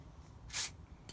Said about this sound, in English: Seems to spray all right.